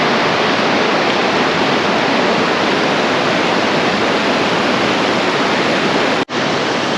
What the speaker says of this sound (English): enjoy the sound of the water one more time